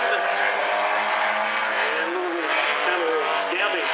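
Race cars, including a Volkswagen Scirocco, running at South Sound Speedway: a steady engine roar with rising and falling whine and some tire noise, held at a consistent loud level.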